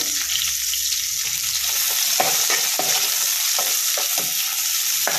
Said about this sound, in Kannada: ಸ್ವಲ್ಪ ಬೆಳ್ಳುಳ್ಳಿ ಹಾಕ್ತೀನಿ ನಾನು ಇವಾಗ ಫ್ರೈಗೆ